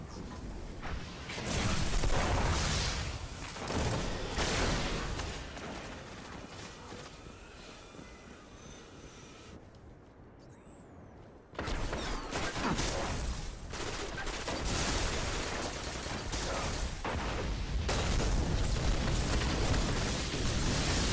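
Gunfire in a Destiny Crucible match comes as a dense, loud barrage of shots and blasts that drops out briefly midway and then resumes just as heavily.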